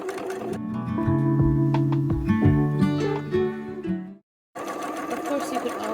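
A sewing machine stitches a small elastic skirt for a Disney nuiMOs doll, running loud and close for about four seconds, falling silent briefly, then starting again.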